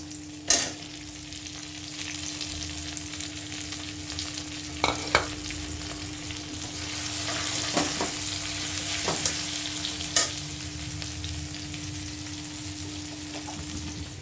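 Fried potatoes sizzling in oil in a pan for a thin rohu fish curry, a steady frying hiss with occasional sharp clinks and scrapes of stirring, no talking.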